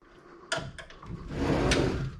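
An old pocket door in a house built in the 1950s slides in its track. A sharp knock is followed by a rough, rumbling scrape of the door rolling for over a second. It is close, moderately loud, with no speech.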